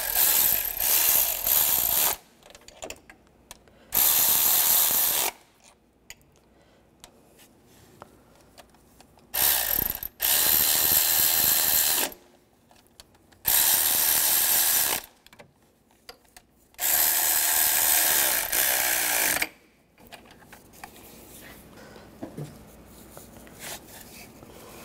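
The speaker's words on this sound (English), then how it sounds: "And you can start tightening those down. Just alternate going back and forth from the middle outward." Bolts on the oil filter housing of a 2011-2015 Chevy Cruze being driven down in alternating passes, with five loud bursts of rapid ratcheting a few seconds each, separated by quieter pauses with faint handling noises.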